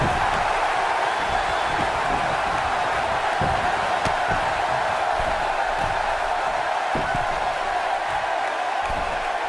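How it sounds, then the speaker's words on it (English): Virtual arena crowd in the wrestling video game WWE 2K19 cheering for Daniel Bryan, a steady dense roar of many voices with faint whoops, holding at an even loud level throughout with no individual speech. "the WWE Universe is back on their feet and cheering Daniel Bryan right now"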